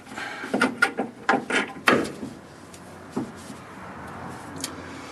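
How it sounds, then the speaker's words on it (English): Metal bolt pulled from a rear anti-sway bar bushing mount with polyurethane bushings: a run of short clanks and scrapes, with one sharper knock near the start, then a quieter thud and a faint rattle. No one speaks. "And I'll pull the bolt out of the top."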